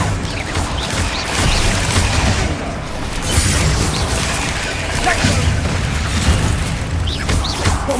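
Bombarda spell blasts in Hogwarts Legacy, a dense run of booming explosions and crashing bursts rolling through the whole stretch, loud and close, with a voice speaking over part of it.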